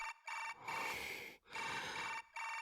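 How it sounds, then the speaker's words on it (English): A phone ringtone in the Chaos;Child video game plays as a repeating electronic tune in bursts with short gaps, fairly quiet and with no talk over it. "Caller? Sarika Onoe."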